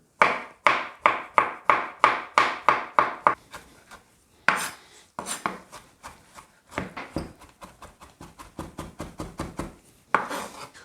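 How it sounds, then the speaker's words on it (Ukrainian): A knife finely chops cucumbers quickly and steadily on a board in rhythmic runs of sharp taps, pausing briefly between bursts; close and clear, no talking. "Для приготування соусу мілко подрібнюємо огірки."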